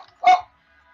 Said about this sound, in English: The dog does not approve.